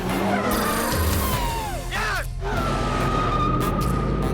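Drift cars at a Drift Masters Europe event, with tires squealing in long sliding whines over constant engine roar, loud and dense throughout.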